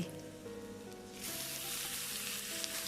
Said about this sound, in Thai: เอาโปรตีนเกษตรลงผัดเลย